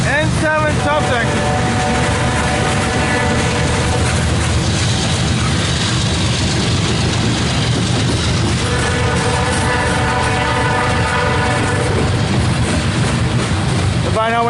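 CSX N744 loaded coal train passing, a loud continuous rumble and rolling roar throughout, with horn-like tonal blasts at the start and again near the end.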